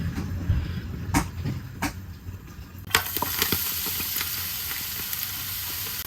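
Oil heating in a pan for kefta and onion filling, a few sharp clinks of utensils at first, then a bright steady sizzle rising and continuing to the end.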